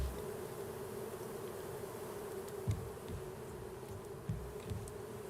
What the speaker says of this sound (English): The honey hive is actually functional